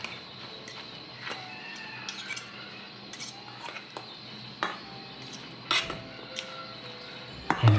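Glass noodle salad with dressing is tossed in a bowl, giving faint, scattered clinks and scrapes of utensils against the dish, quiet and irregular with no talking.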